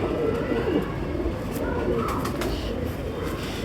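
Pigeons cooing near a breeder showing off a pair of pigeons for sale; soft, repeated low coos over a steady background hum, moderately close.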